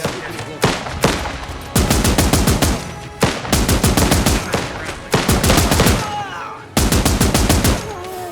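Machine gun fire in the video game Last Train Home, long rapid bursts of loud close gunfire separated by brief pauses.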